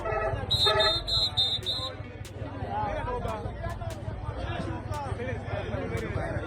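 Horns of matatu buses honking in busy traffic, repeated bright toots near the start over a steady rumble of engines and crowd noise, with sharp clicks and chatter continuing throughout.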